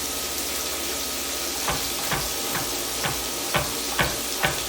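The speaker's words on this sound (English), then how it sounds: "it looks like our steak is cooking well" Cajun steak bites sizzle steadily in a pan, a close continuous frying hiss broken by a regular series of sharp ticks or taps about every half second.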